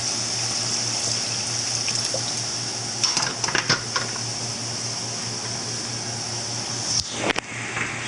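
Liquid sauerbraten marinade of vinegar, red wine and water sloshes in a pot while a utensil scrapes and clinks against the metal a few times, over a steady running hum.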